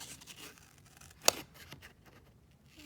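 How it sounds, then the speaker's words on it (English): Scissors make a single crisp snip while cutting out a heraldic waterslide decal, close and brief amid near silence. "So just gonna cut him out."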